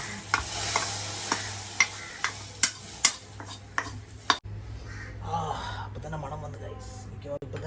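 A hot tempering is poured into a simmering fish curry in a home kitchen, setting off a loud sizzle with sharp clinks and stirring knocks from a pan, then softer bubbling under a nearby voice.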